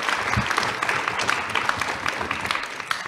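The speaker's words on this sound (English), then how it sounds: "maybe a round of applause for the speakers to cheer them on a bit" Audience applause for the speakers at a panel discussion on financing alternatives: dense, steady clapping from a room of people, sustained and fairly loud throughout with no voices standing out.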